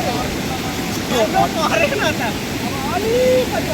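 Floodwater from the swollen Kalikhola river rushes steadily, a broad continuous roar that stays loud throughout, with some faint background sounds over it.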